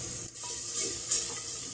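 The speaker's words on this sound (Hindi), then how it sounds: "अब मसाले को हम अच्छे से भून लेंगे" Cumin, salt, coriander powder and turmeric roasting in a pan for beef handi kabab: a steady, close, dry sizzling hiss with soft scraping stirs that swell briefly twice.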